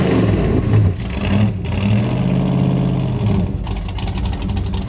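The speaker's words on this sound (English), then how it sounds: "I don't know if we can hear you over his exhaust." A loud 1956 Chevy gasser engine rumbles and revs close by, with deep exhaust throbbing, brief surges and dips in throttle, and a sustained rough idle between blips.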